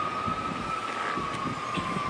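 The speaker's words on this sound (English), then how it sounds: "Sirens. I hear sirens." An ambulance siren wails near a nursing home, a steady sustained electronic tone heard at moderate distance over faint background traffic, with no one speaking.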